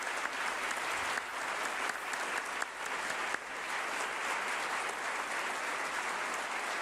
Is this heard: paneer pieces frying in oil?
no